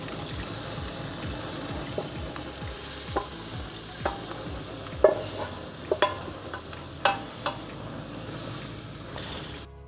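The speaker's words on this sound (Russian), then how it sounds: "Мы постоянно помешиваем на данном моменте, чтобы соус с основой подружились." Beef stroganoff base being stirred into sauce in a pan gives a soft, steady sizzle with repeated scraping stir strokes and a few sharper clinks, close and moderately quiet, with no voices.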